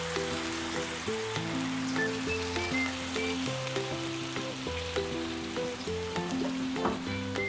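White wine and half a lemon sizzle steadily around seared salmon in a hot pan over medium heat, a continuous wet frying hiss under prominent background music.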